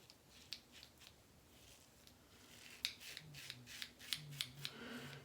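Focus Dynamic razor blade scraping over lathered skin while shaving, a series of faint, close, crisp scratchy strokes in an uneven rhythm, with no talk.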